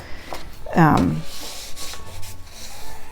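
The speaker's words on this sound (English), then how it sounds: "All right, so we're going to fold and burnish." A bone folder or similar tool rubs firmly along a folded paper crease for a scrap mini album, one short scraping stroke followed by softer faint rubbing, close by.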